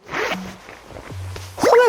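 Zipper on a lightweight high-neck jacket being pulled: a few quick, close zips with short pauses between them.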